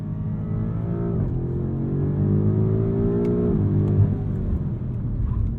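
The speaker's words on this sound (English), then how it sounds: "did you hear that overrun though?" A 2023 BMW M5 Competition engine drones steadily, its pitch rising then falling away as the throttle lifts, with faint crackles and pops from the overrun near the end.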